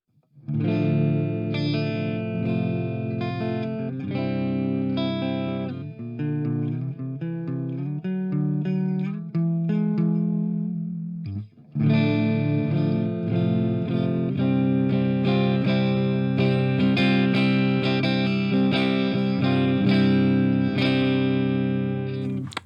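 A clean electric guitar tone plays continuously through the Audio Assault Shibalba amp simulator, strummed chords and picked notes, with a brief pause near the middle before chords ring out again.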